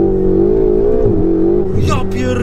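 A 670 HP Ferrari 488 GTB accelerates hard near Krynica Morska, its engine note droning loud and close with a wavering tone, while people talk excitedly over it near the end.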